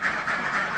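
Laying ducks on a duck farm quacking in a short, dense burst of nasal calls, close and fairly loud, with several birds overlapping.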